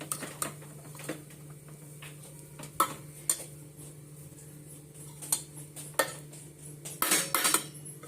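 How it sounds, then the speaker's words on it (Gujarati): A large spoon stirs a cooking pot in a home kitchen, giving scattered metallic clinks and scrapes over a steady low hum, fairly quiet and close. "મમ્મી ચમચો ફેરવું હે?"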